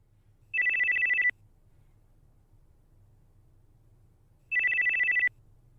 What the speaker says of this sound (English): It's the sound of my very first cell phone.